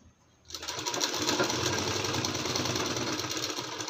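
Electric sewing machine stitching the folded half-inch hem of palazzo trousers, starting abruptly after a short quiet moment and then running in a steady, close, whirring rattle.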